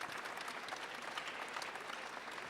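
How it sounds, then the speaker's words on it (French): An audience at a French environmental business award ceremony claps for a prizewinner. The applause is soft and distant, an even patter of many hands with no talking over it. "On peut vous applaudir."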